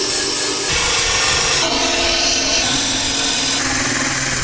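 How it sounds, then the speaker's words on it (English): A loud, continuous grinding scrape of a drill-driven wire brush stripping paint from an engine rocker cover, its pitch and texture shifting in sections as pressure changes. "Then a drill with a wire brush end is used to remove the paint."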